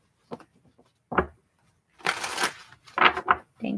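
Tarot cards being shuffled by hand in a few separate bursts, short riffling rustles and soft slaps, close and fairly quiet, separated by brief silences, with no one talking.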